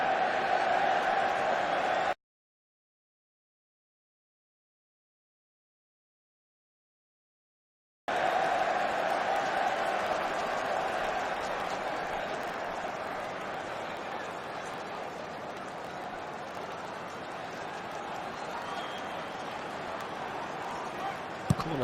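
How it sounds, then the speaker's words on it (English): A large football crowd at the 2019 Community Shield between Liverpool and Manchester City roars and cheers as a steady distant wash of noise. The sound drops to complete silence for several seconds, then resumes. "their crowd who are behind, in the main, behind Claudio Bravo's goal in this second half,"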